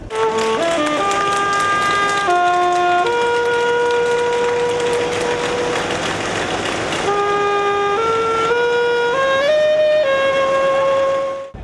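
A loud, sustained train horn blares in long steady tones that shift pitch several times, with a saxophone-like melody woven through; no talking.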